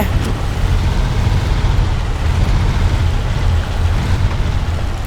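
A tractor's engine labours loudly in SnowRunner, a low rumbling drone running steady throughout with no speech over it.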